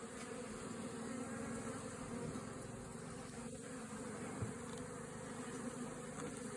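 Honey bees swarm around an open beehive with brood frames, producing a soft, continuous droning buzz that stays faint and even, with no speech over it.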